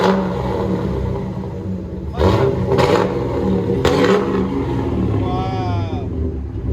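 A 2002 Ford F-250 Super Duty 5.4L V8 with a Black Widow Race Venom muffler idles with a deep, loud rumble, punctuated by three sharp throttle blips, with voices faintly present.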